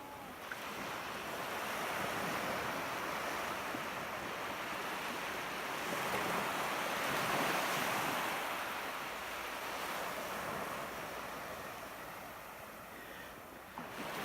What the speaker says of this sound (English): just to listen to the noise of the sea.